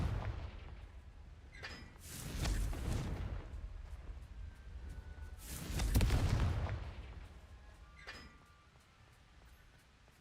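Two booming blasts from the Confringo spell in Hogwarts Legacy roll out a few seconds apart, each swelling and fading with a deep rumble. Lighter, sharper pops come between and after them.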